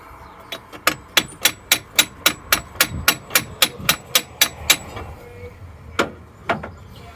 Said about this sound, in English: This calls for some more hammering.